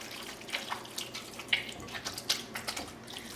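Hands squish and stir beef slices through a bulgogi marinade, producing faint, irregular wet sloshing and squelching sounds with no talking.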